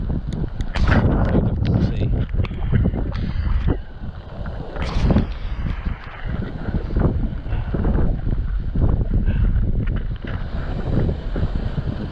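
Strong gusty wind buffets the microphone outdoors by the water on the day before Storm Eunice, roaring steadily for the whole stretch with rumbling surges and sharp bursts, loud and close.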